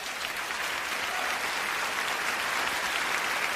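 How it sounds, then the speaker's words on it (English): Dense, continuous applause from a large audience at the Oscars ceremony, loud and unbroken throughout. "the applause at the Oscars after he says all this"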